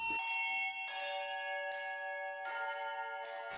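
Handbells rung at a bell-ringing workshop during Frome Festival, a sequence of bright clear strikes about every three quarters of a second, each ringing on with long overlapping decay, close and alone.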